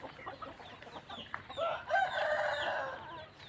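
Hens cluck and a rooster crows, its call swelling loud over the second half, with scattered bird chatter in the background.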